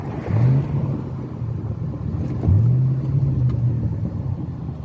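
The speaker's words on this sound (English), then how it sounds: "Some nice downshifts for yous" A car engine drones on the road and rises in two short revving swells as it downshifts, over steady low road rumble.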